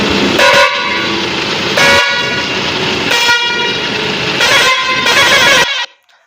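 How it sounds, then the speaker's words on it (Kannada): A double-tank air horn fitted to a Bajaj auto rickshaw blares in loud, long blasts at close range, four or five sustained honks with short gaps between them before cutting off abruptly. "ಹಾರ್ನ್ ನೋಡಿ, ಇವಾಗ"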